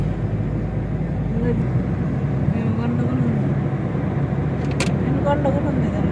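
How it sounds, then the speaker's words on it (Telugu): A Palle Velugu rural bus passes by near Roddam. Its engine and road noise make a continuous close rumble, with faint voices and a short sharp click near the end. "పల్లె వెలుగు బస్సు."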